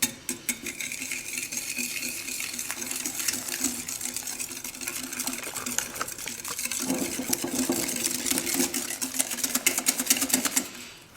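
Beignet batter of sugar and vanilla sugar is beaten in a bowl: quick, busy clicking and tapping of a utensil against the bowl, fairly close, with a brief pause partway through before the rapid beating resumes.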